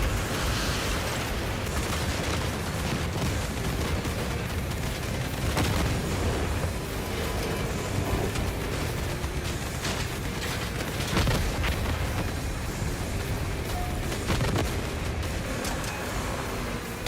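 Grenade-mode launcher shots in a raid video game, with booming explosions layered over constant gunfire and combat noise, dense and loud throughout, no talking.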